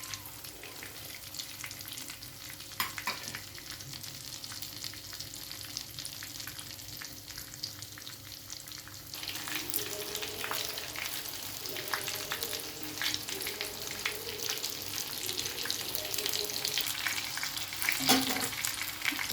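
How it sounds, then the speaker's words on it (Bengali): Bhetki fish cutlets fry in oil, a soft sizzle that swells louder after being turned to the second side, with occasional scraping and crackling bursts and no talk. "একটা পিঠ ভাজা হয়ে গেছে, এবারে আরেকটা পিঠ ভেজে নেব।"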